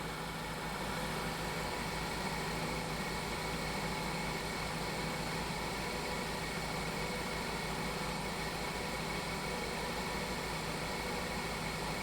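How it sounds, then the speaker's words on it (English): Car engine idling during a relative misfire test with a scan tool, a steady, even low rumble with constant noisy hiss, continuous and unchanging throughout. "Start the engine and press the OK button."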